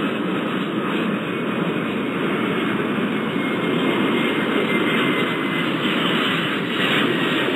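Aircraft engines roar on takeoff at a desert airport in the video game Airport Madness 4, a loud, steady, continuous jet rumble filling the whole stretch with no talking.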